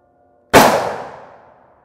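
A single loud shot from a .50 AE pistol firing Gold Dot ammunition cracks sharply after a brief silence and rings out in a long, fading decay that lasts over a second.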